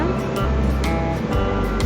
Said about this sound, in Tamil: நல்லா தண்ணியில் கழுவுங்க